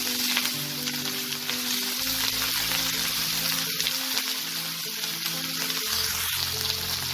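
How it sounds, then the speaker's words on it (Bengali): Washed potato and pointed gourd peels fry in hot oil, giving a soft, steady sizzle and crackle that stays fairly faint, with low background hum and no voices. "তেলটা গরম হয়ে গেছে। এবার আমি এতে আলুর খোসা আর পটলের খোসাগুলোকে ভালো করে ধুয়ে নিয়েছি, এগুলোকে আমি দিয়ে দেবো।"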